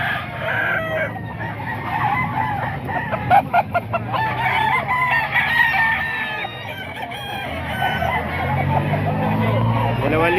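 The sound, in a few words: chickens and roosters for sale at market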